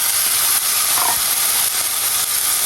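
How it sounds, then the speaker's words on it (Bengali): Jute leaves hit hot oil and sizzle, a loud, steady hissing fry that holds evenly from start to finish with no talking. "পাটের শাক একবার তেলে পরে দেবো ডাইরেক্ট"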